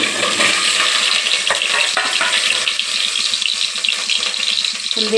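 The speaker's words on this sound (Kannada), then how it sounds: "ಇವಾಗ ಮೊಟ್ಟೆ ಇದರೊಳಗೆ ಬಿಡ್ತಾ ಇದ್ದೀನಿ" An egg frying in oil inside a cooker pot makes a loud, continuous crackling sizzle with some rattling, close and unbroken, with no voices.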